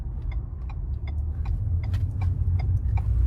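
Lifted 2021-2024 Ford F-150 with the 3.5 EcoBoost engine rolling at low speed, a steady deep engine and road rumble with light repeated clicking above it.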